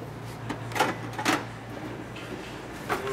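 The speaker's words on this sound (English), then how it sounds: "I'm going to close this door here." A door on a Model 3 cashbox machine swings shut with a couple of close, short latching clunks, followed by a lighter click, over a steady low electrical hum.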